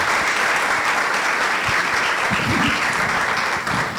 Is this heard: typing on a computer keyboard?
no